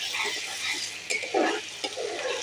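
Potatoes with green chillies sauté in oil in a pan, giving a steady close sizzle with a few soft scraping stirs breaking through.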